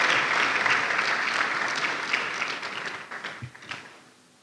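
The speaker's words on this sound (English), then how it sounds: "Another round of applause for Prof." Conference audience applauding a professor after a talk, a full burst of clapping that gradually thins and fades, ending with a few scattered last claps.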